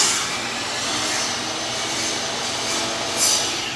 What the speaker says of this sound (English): that is how I sharpen my pencil